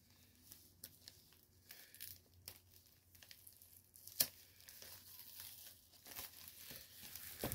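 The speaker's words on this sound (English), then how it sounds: "Maybe I can pull off the sticker." A sticker is peeled off a vinyl box set at close range with quiet crinkling and scratchy tearing in short bursts, one sharper snap midway and soft handling rustles around it.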